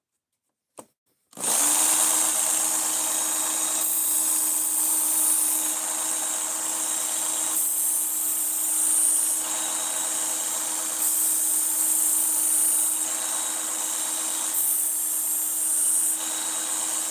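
A belt grinder sharpens an Ozark Trail axis lock knife with a steady, loud, high whine that starts abruptly after a brief click and runs continuously, grinding pressure shifting slightly throughout, close up and with no talking.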